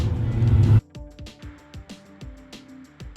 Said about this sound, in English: But check this car coming by, and you know muscle cars got it going on.